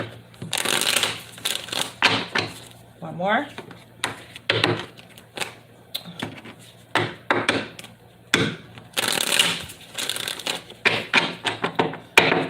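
Cards are shuffled in repeated quick riffles and papery bursts, close by, with a person speaking briefly between them.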